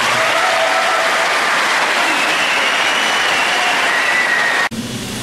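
A room full of people gives a sustained round of applause at a press conference, a loud unbroken wash of clapping that cuts off abruptly near the end.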